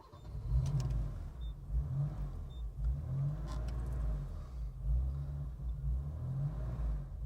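A BMW E28 Hartge H5 SP with a hot cam runs and revs, its engine a lumpy, uneven low-pitched rumble that rises and falls through several blips, heard from inside at moderate loudness.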